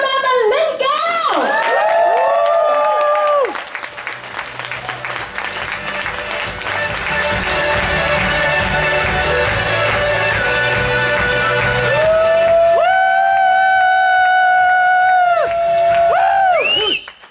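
A conference audience at a nail-industry business breakout event claps and cheers loudly for a new Blue Diamond achiever, with sustained applause, whoops and shouts, while music plays over the crowd.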